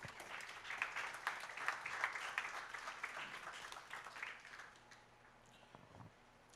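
A church congregation applauds during a sermon, a dense wash of clapping that swells, holds for several seconds and then fades away toward the end.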